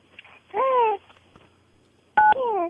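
Telephone keypad tones sound as a few short, loud beeps spread across about three seconds, with quiet gaps between them.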